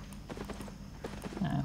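Horse hooves clip-clopping in Albion Online, a quick, soft, rhythmic series of hoof beats over a low game background, ending with a brief tonal chime.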